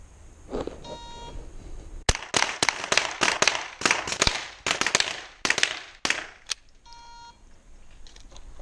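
Rapid bursts of sharp small-bore self-loading rifle shots at a German shooting competition, roughly fifteen close, loud cracks in quick succession, framed by short electronic timer beeps before and after the string.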